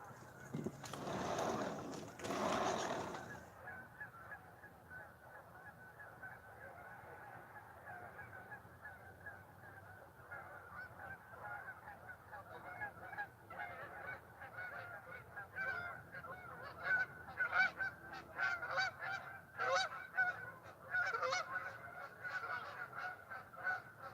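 Geese honking repeatedly at a distance, a chorus of calls rising and falling over a quiet outdoor background.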